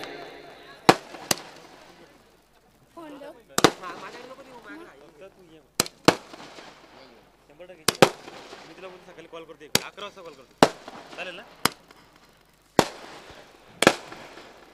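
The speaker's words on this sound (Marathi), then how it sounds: "या फटाक्यांच्या आतिषबाजीमध्ये मात्र साम्राज्य या बैलाचं आगमन या ठिकाणी मंचावरती नक्कीच होत आहे" Firecrackers and fireworks burst one after another at an outdoor bull celebration, sharp loud cracks at irregular intervals with excited crowd voices and chatter between the bangs.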